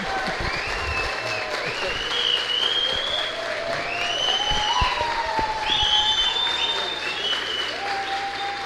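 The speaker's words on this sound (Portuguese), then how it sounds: "Eu gostaria que todos batessem palmas para o Sérgio e dar boas-vindas." A crowd of young people at a city councillor's community space applauds to welcome actor Sérgio Mamberti, sustained clapping throughout with whistles and excited voices rising over it.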